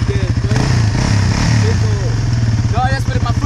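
Motorcycle engine idling and revving under throttle while someone learns to pop a wheelie, a steady low rumble close by with voices talking over it.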